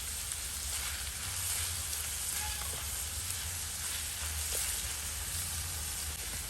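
Curry leaves drop into onions frying in hot oil for an egg pepper fry, giving a steady, close, dense sizzle and crackle with a few faint spatters, and no talking.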